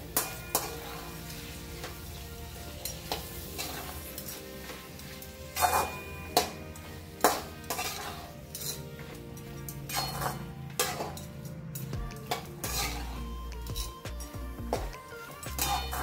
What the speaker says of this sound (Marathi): आता हे 1-2 मिनिटे आपण परतवून घेऊया